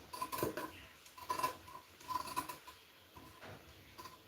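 Scissors snip through blouse fabric in a few quiet, separate cuts with small metallic clicks, close by on a tabletop, and no talk.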